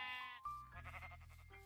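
Sheep in the Minecraft video game bleat in quick succession, a couple of wavering game-style calls sounding close and fairly quiet, with no talking.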